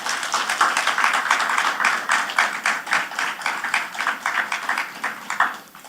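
An audience in a forum hall claps steadily in quick, even rhythm, a dense patter of hands that swells slightly and then thins toward the end, close and fairly loud with no talking over it.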